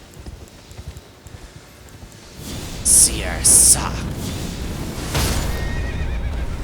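A horse in the video game Elden Ring gives two sharp whinnies, followed by clip-clopping hooves and a thud, with a player speaking briefly beneath.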